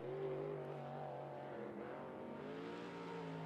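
A limited late model race car circles 411 Motor Speedway in qualifying, its engine a steady, faint, distant drone with harmonics that rise and fall slightly as it runs through the corners.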